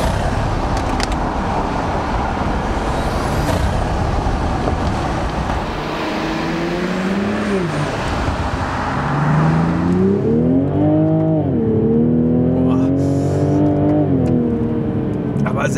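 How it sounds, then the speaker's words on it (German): A 2020 Toyota GR Supra with 340 PS drives with the window down, its turbocharged engine rising and falling through gear changes over loud road and wind noise, heard from inside the cabin while people talk. "gerade auch die Turbos hört man, wenn man das Fenster unten hat"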